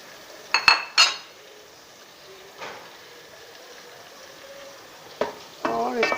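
Ajwain and kalonji seeds frying in a pan as they are stirred, with soft sizzling under a few sharp clinks of a spoon against the metal pan, close by.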